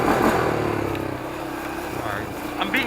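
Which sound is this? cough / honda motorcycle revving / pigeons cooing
honda motorcycle revving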